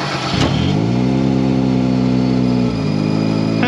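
A procharged Nissan 350Z engine revs up and holds a steady, loud drone as it accelerates, dipping briefly as a gear changes, then climbing again.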